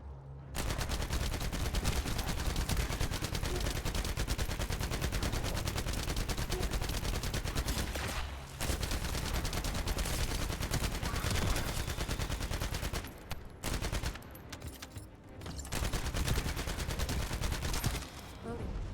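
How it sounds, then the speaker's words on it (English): Shotguns firing in rapid, dense volleys, a near-continuous barrage of loud blasts lasting most of the stretch with only brief pauses between bursts. "Shotguns."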